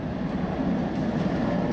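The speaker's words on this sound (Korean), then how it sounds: "이렇게 트램이 지나가고 있고요." A steady low rumble of a tram rolling past nearby, continuous and fairly loud throughout, with no voices.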